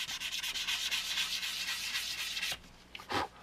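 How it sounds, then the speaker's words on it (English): Rapid back-and-forth hand sanding scuffs a painted MV Agusta motorcycle part, a steady raspy rubbing that falters near the end into a few separate strokes. "I'm going to detail sand this out."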